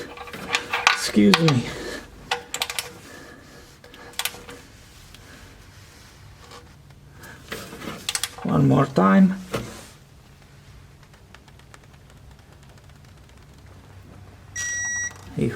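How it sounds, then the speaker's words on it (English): A torque wrench with a 14 mm socket tightens the oil drain plug of a Toyota Sienna to about 40 newton meters, giving sharp metallic clicks close by, with a person talking around them. "So here comes the torque wrench with that 14 millimeter socket, right? And let's hear for it."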